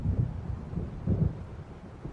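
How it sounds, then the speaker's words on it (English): A low, distant rumble of an approaching thunderstorm in Alan Wake Remastered, swelling in two soft waves under a steady windy hiss, faint and with no voices. "It seems there's a storm coming."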